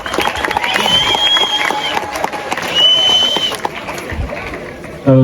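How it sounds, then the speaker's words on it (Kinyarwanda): Wedding guests at a celebration clap and cheer as a crowd, a steady wash of applause and chatter that continues throughout at moderate distance, with voices mixed in. "mukomere amashyi cyane"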